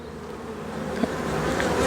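Honey bees humming in a dense, continuous drone from an open hive box during queen rearing, close and fairly loud, with no voices.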